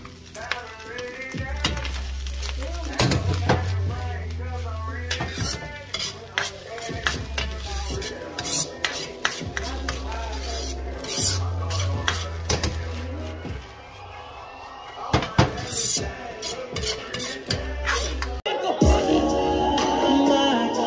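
Fresh onion cooking in a hot pan, with a constant sizzle beneath repeated scraping and clinking of a utensil stirring against the pan, and low rhythmic thumps recurring in the background.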